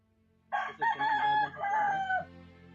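A single rooster crow rings out nearby, a clear loud call lasting under two seconds over a faint steady hum.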